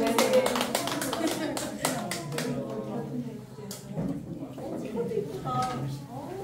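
A congregation at a church retreat claps in praise, loose uneven clapping with sharp individual hand strikes early on, then lighter scattered claps under voices.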